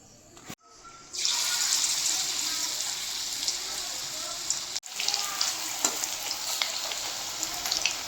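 Potato pakoras hit hot oil in a kadai, setting off a loud, continuous crackling sizzle that holds steady with brief pauses and renewed bursts as more batter goes in.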